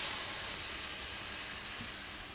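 Stuffed Hatch chilis sizzle in a skillet of leftover brisket fat and avocado oil, giving a steady, loud, close hiss with no talking.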